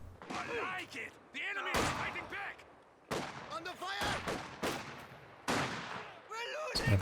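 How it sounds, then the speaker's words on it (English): Sniper shots and scattered gunfire in the WWII strategy game Company of Heroes 2, with sharp loud cracks recurring every second or two amid a continuous busy battle din of smaller reports. "Sniper getting some nice shots in here."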